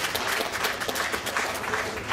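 Audience applause at a live concert for a pianist before a cover song, a moderate, even clatter of many hands clapping throughout.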